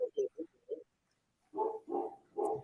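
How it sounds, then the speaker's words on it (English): A dog barks in quick, muffled yaps at first, then three deeper, louder barks follow after a brief pause, sounding somewhat distant as if through a phone or from another room. "I don't know what the hell she's barking. I can hear it. Yeah, I can hear your dog."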